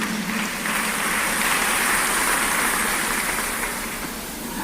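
A church congregation applauding during worship, a steady dense wash of clapping from many hands that fills the space for several seconds at an even, loud level.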